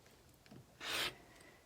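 A single short rasping cut as a quilt half square triangle block is trimmed along a ruler, a soft scrape lasting about a quarter second amid faint small handling sounds.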